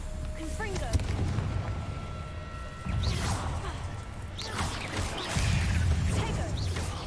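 Confringo spell blasts in Hogwarts Legacy land as booming, crackling explosions, several heavy bursts spaced a few seconds apart over rumbling game effects, with a voice speaking in between.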